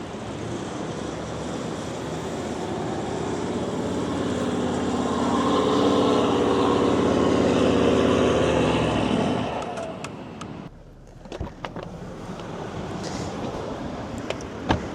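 A Toyota Landcruiser 70 Series climbs beach sand at about 2000 RPM with lowered tyre pressures, a steady broadband engine drone mixed with wind and surf that swells for about nine seconds, then falls away to wind and light knocks.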